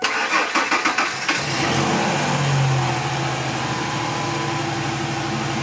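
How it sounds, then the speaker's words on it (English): A car started after brake pad and rotor replacement: a quick grinding crank of the starter, then the engine catches, revs briefly and settles into a steady idle, close and without talk. "Let's go ahead and start your vehicle."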